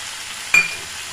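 Spices sizzling in a pan while bitter gourd gojju is cooked with turmeric and chili powder, a soft steady frying hiss with one brief clink of a spoon against the pan midway.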